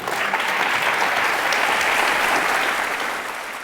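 A studio audience at a televised courtroom-style talk show claps in a sustained burst of dense applause that fades slightly near the end.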